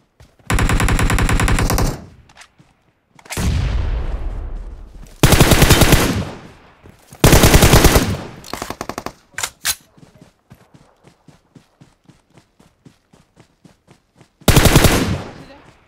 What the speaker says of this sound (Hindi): मुझे कवर फायर चाहिए